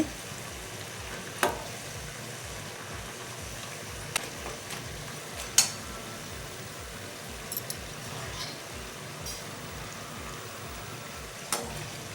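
Okra sizzles steadily in a pan with oil, a quiet, continuous fry with occasional small pops and stirring clicks.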